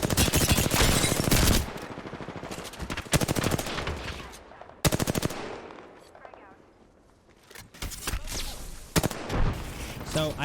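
Dense gunfire in the video game Apex Legends, with rapid automatic bursts and heavy shots, loud and near, mixed with game effects and a player talking over it.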